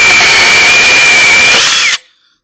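A Worx WG325 electric saw cutting through a 2 3/4 inch piece of wood: a loud, close, steady high whine with a fixed tone that cuts off abruptly at the end, leaving a brief fading tail.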